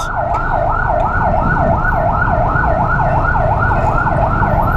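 A loud wailing siren of an ambulance cycles steadily up and down, continuous throughout, with engine and road rumble underneath.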